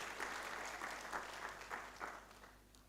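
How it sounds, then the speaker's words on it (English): Applause from an audience at a university launch event, a moderate patter of many hands clapping steadily for a few seconds, then thinning and fading. "Kindly applause her as she comes."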